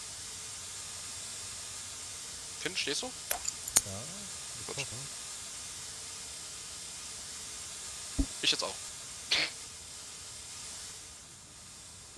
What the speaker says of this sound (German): Kann irgendjemand mal seine Dampflok bitte schön ausmachen?